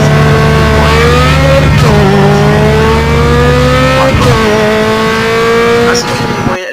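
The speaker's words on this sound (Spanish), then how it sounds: "voy con el sonido del turbo ese" Racing engine from Need for Speed Underground 2 revving hard through gear changes, a loud steady turbocharged whine climbing in pitch, dropping at each shift near 2 and 4 seconds, then climbing again.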